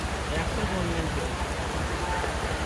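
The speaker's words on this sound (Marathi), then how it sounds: "पावसाने सुरुवात केलेली आहे" Rain falling during an outdoor village procession, a steady soft hiss of drops under a constant murmur of crowd noise.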